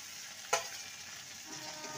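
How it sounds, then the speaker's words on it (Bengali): Fried brinjal being added to a soft tomato masala and stirred in a pan, a continuous sizzle with one sharp spoon clack early on, then quieter stirring. "এবারে যে বেগুনটাকে ভেজে রেখেছিলাম সেটা দিয়ে দেবো"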